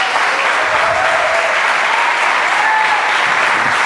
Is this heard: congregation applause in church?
yes